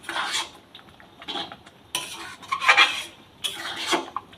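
Egg tadka in a pan being stirred after ready-made tadka masala is mixed in, with bursts of metal utensil scraping and clinking against the pan in several separate strokes, fairly close and clear with no talking.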